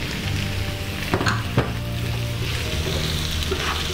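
Onions with ginger-garlic paste frying in a pan, potato pieces tossed in: a steady close sizzle with a few sharp clatters of the added potatoes and stirring.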